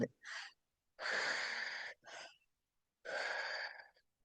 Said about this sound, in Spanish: No estamos respirando por la nariz, sino por la boca.